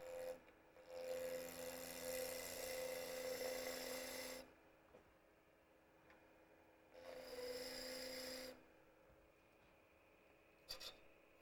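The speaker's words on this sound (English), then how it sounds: "I'm going to turn a tenon on there, for one for the top, one for the bottom" A wood tenon being turned on a lathe for a three-sided box, with two bursts of steady rasping tool-on-wood cutting separated by a quiet pause and a brief click near the end.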